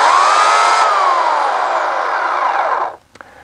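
A chainsaw engine runs loud and close at a steady high whine, then cuts off abruptly after about three seconds, leaving a few faint knocks.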